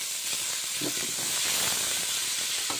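Tomatoes, onions and salt sizzle in a large pan while being stirred for a big batch of cooking, a steady close hiss broken by a few scraping stir sounds.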